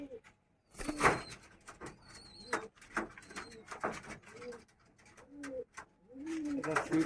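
A pigeon coos softly and repeatedly nearby, with low rolling calls between brief wing flutters and faint background noise.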